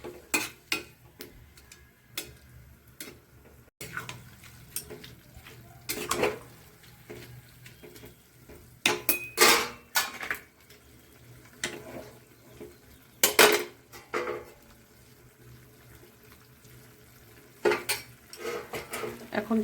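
Spoon scraping and clinking against a pan while a cauliflower, turnip and spinach curry is stirred, giving scattered bursts of metallic knocks and scrapes with quiet gaps between them, close by and with no talking.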